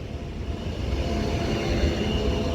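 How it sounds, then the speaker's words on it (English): A Class 331 Northern electric train pulls into a platform at Manchester Airport with a steady rumbling rail roar that swells slightly as it nears, and no voices. "331104 now arrives in with the 1358 Northern service to Crewe"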